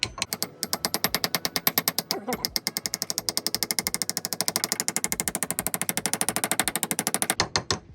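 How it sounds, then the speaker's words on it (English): A small hammer taps a wheel seal into the front hub of a 1966 Volvo Amazon with rapid, evenly spaced metallic blows, close and loud. The taps run in a long steady series, pausing briefly once before continuing. "we're just gonna tap that in with my little, got this hammer"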